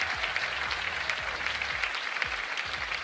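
An audience applauds a magician's assistant during a live stage show, a short burst of scattered, fairly light clapping from a crowd that holds steady for a few seconds without speech.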